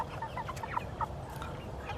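Hens cluck in short, scattered bursts against a steady low background hum, a handful of brief calls close by, with one rooster among them.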